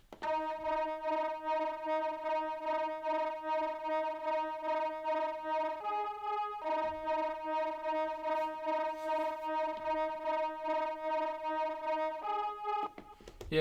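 A simple synth line for a grimey 90s hip hop beat, programmed on a Maschine MK3, plays alone as sustained, pulsing tonal notes that step to a new pitch twice before returning.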